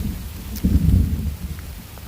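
Low rumbling thunder swells briefly in the middle over a steady wash of rain, fairly close and moderately loud, with no voices.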